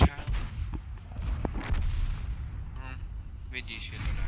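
Tank cannon fire in the World of Tanks video game: a heavy booming shot at the start, followed by further blasts, rumble and metallic in-game effects, loud and close.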